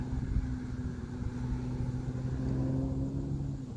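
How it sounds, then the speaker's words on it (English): Road traffic from a busy place heard during outdoor morning birdwatching: a continuous low engine rumble and hum of passing vehicles, steady and moderately distant, with no talk. "You can hear the traffic. We're right by a busy place"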